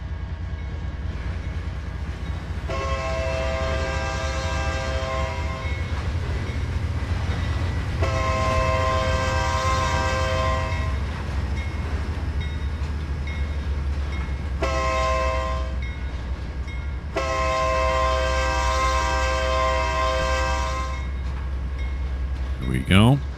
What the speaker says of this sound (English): This is definitely going to be a sound the horn for the crossing.